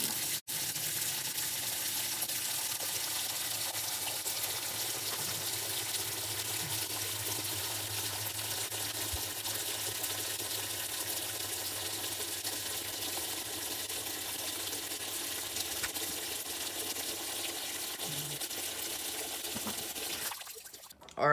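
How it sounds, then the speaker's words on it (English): Cold tap water gushes steadily into a washing machine during a budget laundry detergent test, a loud continuous rushing and splashing that runs nearly unbroken and cuts off at the end. "This is just pure tap cold water entering the machine right now."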